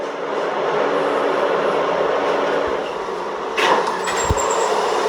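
A New York subway Z train runs near Alabama Avenue toward Broadway Junction, bound for Broad Street: a steady, loud rolling rumble with a brief rising screech and a couple of sharp clacks near the end.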